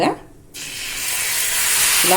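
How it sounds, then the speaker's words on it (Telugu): Rava dosa batter poured onto a hot pan over high flame bursts into a loud, continuous sizzle that swells and holds close up after a brief quiet pause. "దోశ వేసేటప్పుడు పెనాన్ని హై ఫ్లేమ్లో పెట్టుకొని మనం అయితే దోశ అయితే వేసుకోవాలండి"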